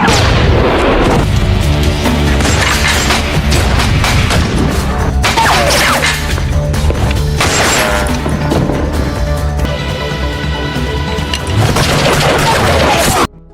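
Loud, dense film shootout gunfire with booming shots and crashing impacts layered over a continuous music score, sustained throughout with repeated bursts.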